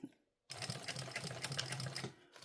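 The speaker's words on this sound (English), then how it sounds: "I'm just going to sew it on right now and fix it if need be" A sewing machine runs quickly over a part of a sling bag, a steady close whir lasting about two seconds after a short quiet gap.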